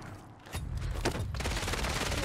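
Rapid bursts of gunfire in the video game Warzone 3 crackle and thump in quick clusters, fairly loud and continuous across the moment, with no voices over them.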